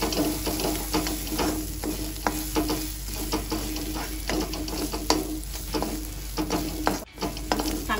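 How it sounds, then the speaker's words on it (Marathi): Stuffed okra filling, with crushed peanuts mixed in, is stirred and sautéed in a pan, repeated close scraping strokes of a spatula over a steady frying sizzle, rhythmic and unbroken, with no voices. "चांगलं परतून घ्यायचं"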